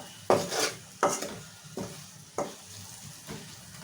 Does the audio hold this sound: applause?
no